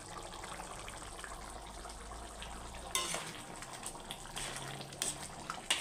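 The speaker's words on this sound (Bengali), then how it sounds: "নেড়ে চেড়ে" Chicken curry with potato and tomato being stirred in a pan after garam masala goes in, a steady frying sizzle with scraping stirs, louder clatter near the midpoint, no talk.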